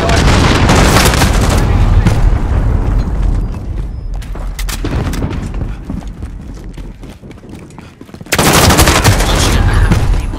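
Loud, sustained explosive roar and rumble of a cruise missile strike in the shooter game Call of Duty: Modern Warfare, filling the scene, easing off midway, then surging back at full force near the end alongside scattered gunfire.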